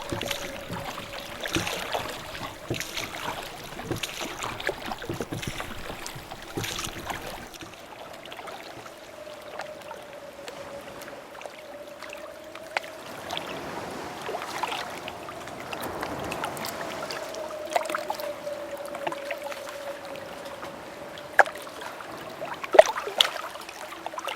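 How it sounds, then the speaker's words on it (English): Gentle water sloshing and oar paddling from a rowboat crossing the Brahmaputra River, with a steady low hum and scattered splashes and knocks, no talking. "The boatmen pedal their oars to the river to take you to the other side"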